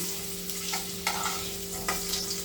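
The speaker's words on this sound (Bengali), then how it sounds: "দেখুন আমি কীরকম লাল লাল করে ভেজে নিয়েছি এবার আমি তুলে নেব" Potatoes frying in oil in a pan while making chicken curry, a loud, steady sizzle up close with a few brief scrapes of a spoon across the pan.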